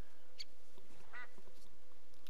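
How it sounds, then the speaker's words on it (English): Angry birds from a modded video game squawk in a few short, harsh, quacking bursts over a low background hum. "It's like a bird battle."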